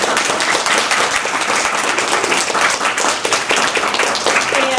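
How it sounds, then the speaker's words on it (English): Dense, steady applause from a conference audience after a panel discussion fills the space, loud and continuous with no speech over it. "Let's give another round of applause."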